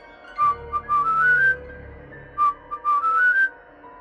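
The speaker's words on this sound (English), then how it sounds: "At exactly 3:03 we heard the whistling." An eerie whistled melody at night, two short rising phrases of clear tones separated by a pause, close and fairly loud against a quiet background.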